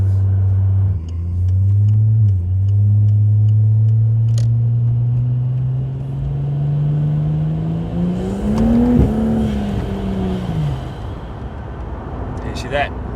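A 700 hp Ford G6ET Barra engine fitted with stage 1 billet cams pulls hard through the gears, a loud close rising drone that drops at each shift and climbs again, with a voice talking over it.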